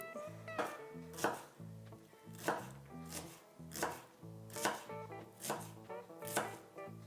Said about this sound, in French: on va juste découper ces échalotes en fines lamelles, en fines tranches qu'on va émincer